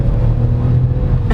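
A 2022 Chevrolet Tracker crossover pulls hard out of a corner, its engine giving a loud, steady low rumble heard from inside the car, with no voices over it.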